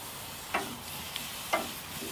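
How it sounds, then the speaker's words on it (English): Fatty edge of a steak sears on grates laid over a wood fire on a gas grill, a quiet continuous hiss broken by a couple of crisp crackling pops. "I'm gonna start with searing the fatty part of the steak"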